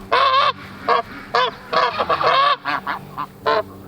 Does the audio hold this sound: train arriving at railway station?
no